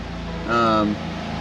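A BMW M2 Competition engine idling unevenly, a steady low rumble that swells briefly louder in the middle, heard up close.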